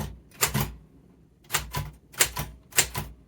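Four sharp clusters of typewriter keystrokes strike in quick bursts with short pauses between them, close and crisp, with no voices.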